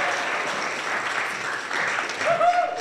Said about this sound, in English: And a round of applause for all you guys.